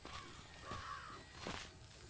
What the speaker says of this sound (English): Birds swoop around the looming stone monument.